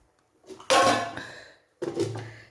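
A metal lid set onto a pot of simmering fish curry with curry leaves, a soft scrape followed by a clattering clank, then a second shorter clink as it settles.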